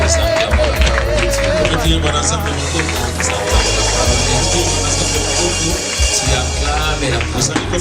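A church congregation clapping and cheering together in acclamation, a loud, dense mass of hand claps and voices filling the room without pause.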